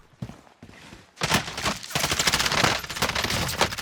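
Rapid automatic gunfire from a Warzone match, a dense burst of shots following a couple of faint earlier pops, fairly close and loud with no talk over it.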